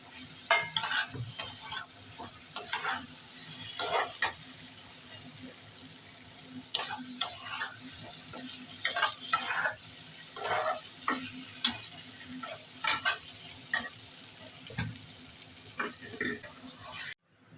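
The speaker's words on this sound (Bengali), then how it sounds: "অল্প অল্প করে জল দিয়ে আমি ভালো করে কষিয়ে নেব।" Spice paste sautéing in a pan with splashes of water for an egg and potato curry, gentle sizzle under repeated stirring scrapes and occasional utensil knocks, close and moderately quiet.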